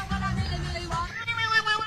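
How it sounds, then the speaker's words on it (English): A cat makes an odd, strained meowing noise, a loud wavering yowl with rising and falling pitch that stops and resumes briefly within a couple of seconds. "I don't know what makes a cat make that noise."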